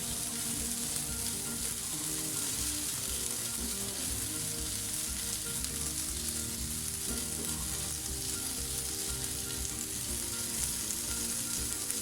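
Hog plum pieces fry with softened, lightly browned onions in a pan for a Bengali puti fish pickle, giving a steady, dense sizzle that runs the whole way through with stirring scrapes mixed in and no talking.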